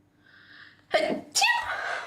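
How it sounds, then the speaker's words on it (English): A single person sneezes loudly and close, a sharp inhale and then an explosive burst, with a faint hum in the background. "Bless you. Did I sneeze?"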